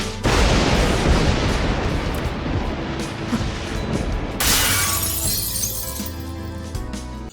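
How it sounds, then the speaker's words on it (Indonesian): A heavy crashing impact as an iron bell shatters from a punch in an anime, with breaking debris, followed by a bright metallic ringing tail that slowly fades. "Lonceng besi itu benar-benar hancur oleh pukulan manusia."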